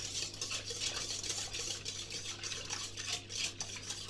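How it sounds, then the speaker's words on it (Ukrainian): A wire whisk stirs wet yeast dissolving in liquid in a bowl, making a steady, close scraping and swishing with rhythmic strokes over a low constant hum, no voices. "Тепер беремо вінчик. І нам треба це все перемішати до повного розчинення дріжджів."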